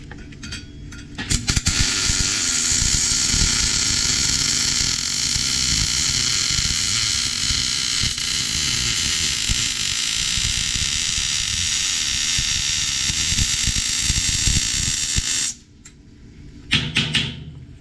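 GMAW wire feed welding with short circuit transfer gives a steady, loud crackling buzz that holds for about fourteen seconds before cutting out, with a few brief clanks around it.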